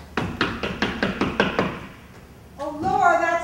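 A quick, rhythmic series of about seven firm knocks on a door in a stage drama, close and distinct, followed by a pause and then a voice speaking.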